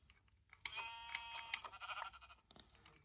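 Sheep bleating in Minecraft Bedrock Edition, a few short synthetic bleats with a bright, tonal quality over quiet background game sound, no talk.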